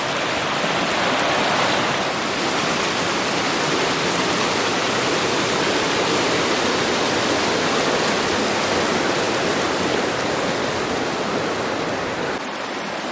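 Blue Miner Creek rushes loud and close at a log crossing in the Gros Ventre Wilderness near Jackson Hole, a dense, continuous roar of whitewater filling the scene without pause.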